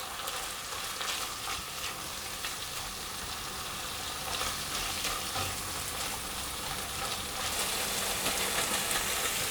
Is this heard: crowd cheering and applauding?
no